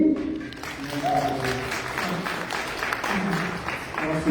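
An audience at an album release concert applauds the drummer, a dense wash of clapping that runs steadily throughout with a voice speaking over it.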